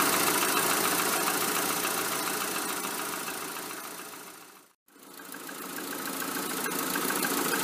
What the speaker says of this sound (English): the compressor is cutting in as the gas goes in